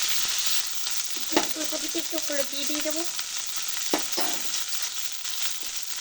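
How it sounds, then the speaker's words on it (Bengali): Cauliflower florets frying in hot oil in a pan, with a steady, fairly loud sizzle and crackle throughout, a few stirring knocks, and a voice talking briefly over it. "এবার এই ফুলকপিগুলো ভেজে নেব।"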